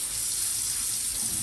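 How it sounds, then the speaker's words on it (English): Tap water running over a chopping board in a kitchen sink while it is rinsed after washing with sponge and soap, a steady close splashing stream with no talking. "give it another good wash and rinse it with some water"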